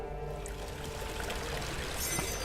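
Water poured from a bucket into a well in the horror game Amnesia: The Dark Descent, a steady continuous splashing pour that sits low in the mix over a dull ambient hum.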